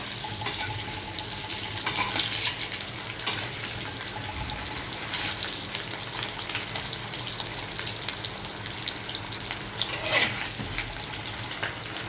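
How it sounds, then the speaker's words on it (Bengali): An egg tinted with a little turmeric fries lightly in a pan, giving a steady, close crackling sizzle that runs throughout with a few sharper pops along the way. "ডিমটা এখানে খুব বেশি ভাজবো না অল্প একটু ভেজবো"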